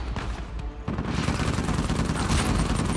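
Heavy gunfire during an Uncharted 4: A Thief's End firefight, a dense, continuous barrage of overlapping shots that starts abruptly and stays loud and close throughout.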